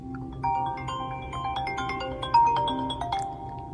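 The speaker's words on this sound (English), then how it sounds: "Now listen to how the new one sounds." The new default Apple iPhone ringtone from iOS 17 plays a light, chiming melody of short, bell-like notes in a lilting repeated phrase, heard by itself without voices.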